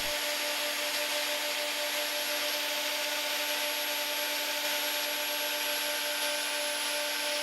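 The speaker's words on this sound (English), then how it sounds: "Now let's get to grinding." Grinding wheel dressing a worn pulverizer wheel back to round: a steady, continuous high-pitched abrasive hiss with a faint ringing tone, unbroken and fairly close throughout.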